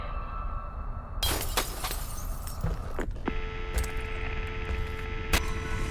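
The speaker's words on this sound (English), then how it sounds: "You heard something broken glass." Glass shattering in the Friday the 13th video game, sharp bright crashes standing out against a low humming background, with several separate breaks spread across the clip.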